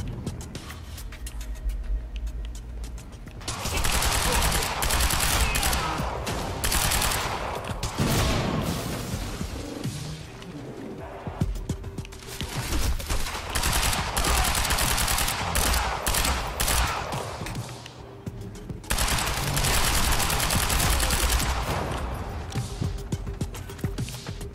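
Sustained gunfire in the Quantum Break action game, a loud, dense stream of rapid shots and bursts that barely lets up across the whole stretch. Booms and clattering impacts are layered in, with no talking.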